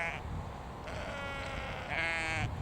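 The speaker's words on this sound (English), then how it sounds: "I've got the sheep just behind me." Sheep bleat out on open hillside in the Yorkshire Dales, a few drawn-out calls overlapping in a steady, moderately near chorus against light outdoor ambience.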